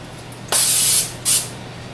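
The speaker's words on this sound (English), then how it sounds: "spray our loaf pans with some cooking spray." Two short, close bursts of cooking spray onto 9 by 5 inch loaf pans hiss out, the first about half a second long and the second briefer, in a quiet room.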